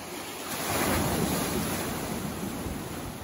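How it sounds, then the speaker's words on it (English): Water washes and sloshes steadily nearby on a sandbar by a water villa in the Maldives, a soft continuous surf that swells briefly and then settles. "there is constant sloshing of the waves"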